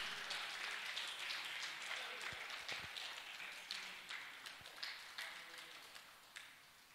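A church congregation claps and cheers for the Lord, dense rapid applause filling the room at a distance, gradually thinning toward the end, with no clear talk.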